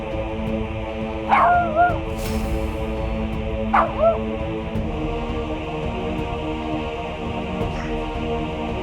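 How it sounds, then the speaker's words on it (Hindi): A dog yips and barks twice with rising, whimpering tones over a steady hum of background music in a television drama scene, both barks close and fairly loud. "तुम अभी भी मुझ पे भौंक रहे हो।"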